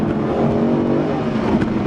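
A 6.2-liter V8 in a Mercedes SLS AMG GT growls close and loud in a steady, rich revving note that holds for a couple of seconds with no talk.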